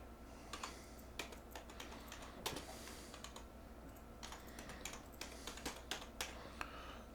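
Fingers type on a computer keyboard to title a Clipchamp project, quick irregular bursts of soft key clicks with short pauses, close and quiet with no talk.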